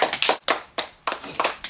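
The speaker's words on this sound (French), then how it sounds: "Jacadie applaudissez." Children clap their hands during a game of Simon Says, a few sharp, uneven bursts of claps close by with brief pauses between them.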